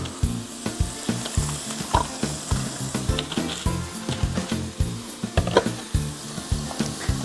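Soy sauce sizzling in a pan of frying ground beef, a loud close hiss with rhythmic stirring scrapes, probably from a wooden spoon, repeating through the clip with no voices.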